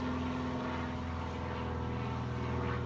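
Airplane passing overhead, a steady broad engine drone with low hum, continuous and fairly loud throughout with no talking.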